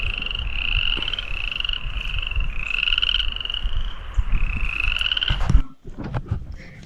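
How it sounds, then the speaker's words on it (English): Frogs at ponds in Jackson Hole croak loudly in a continuous, rhythmic chorus of repeated trilling calls, steady for several seconds before a sudden thump and quieter ending. "we went to the frog ponds and listened to the frogs. They're pretty loud."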